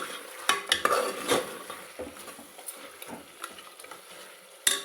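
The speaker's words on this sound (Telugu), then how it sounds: "పుదీనా, కొత్తిమీర నూనెలో మంచిగా ఫ్రై చేసుకోవాలి." Mint and coriander fry in oil for a spicy mutton curry, with a spoon stirring and scraping the pan in irregular strokes over a soft sizzle, close and fairly quiet.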